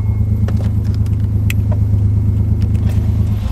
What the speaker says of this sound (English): Still misfiring on one cylinder, sounds like.